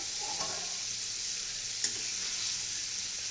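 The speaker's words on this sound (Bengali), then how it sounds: "আমার মশলাটা কষানো হয়ে গেছে, উপরে তেল উঠে আসছে। আমি এগুলো দিয়ে দিব সিদ্ধ করা গোটা আলু" Boiled whole potatoes tossed into a pan of sizzling fried masala, giving a steady, close frying hiss with a couple of faint stirring knocks and no voices.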